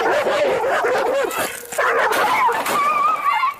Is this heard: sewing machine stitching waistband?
no